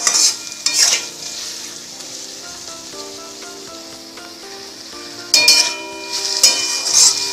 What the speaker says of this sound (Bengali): মশলাটা আমি নাড়াচাড়া করা হয়ে গেছে।